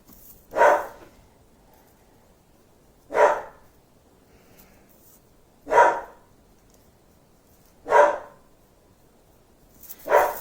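A dog barks five times in single, evenly spaced woofs about two seconds apart. Each bark is close and loud, with quiet in between and no talk.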